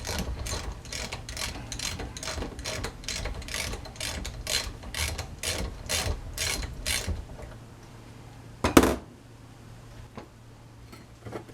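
A ratchet clicks rapidly in a long even run while undoing a nut on a Frogeye Sprite's front suspension, then stops, followed by a single sharp metallic clank and faint handling sounds.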